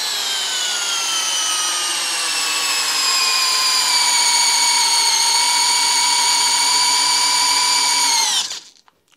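A Parkside Performance PBSPA 12 C3 cordless drill bores sideways into a workpiece with a loud, steady whine whose pitch slowly sags under load, running alone for about eight seconds before stopping abruptly.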